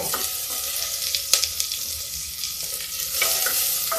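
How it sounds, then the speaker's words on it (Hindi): Chopped onion with ground garam masala frying in a pan for a parwal (pointed gourd) curry, a steady close sizzle with a few sharp stirring scrapes and clinks, no talking. "प्याज को भूनते हैं।"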